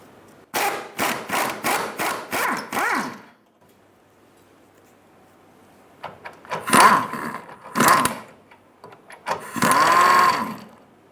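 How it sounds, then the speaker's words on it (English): Socket wrench working a fuel tank strap bolt on a 2007-2017 Ford Expedition: a burst of rapid ratcheting clicks early on, a pause, then several shorter bursts of clicking and scraping, close and loud with no talk. "Using a 13mm socket, remove the tank strap bolt."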